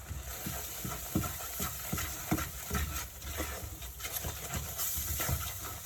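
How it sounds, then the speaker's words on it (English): A spoon stirs cider vinegar with herbs and spices through a cooking base for cheesy chicken enchiladas, giving soft rhythmic scraping strokes against the pan over a steady low background, with no talking. "And give that a wee stir."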